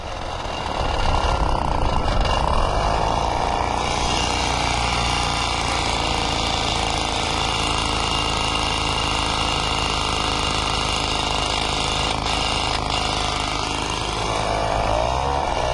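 A Peugeot 103Z moped engine with a loosened exhaust pipe runs loud and raw, a harsh continuous rattling drone close by for the whole stretch, with a voice faintly underneath.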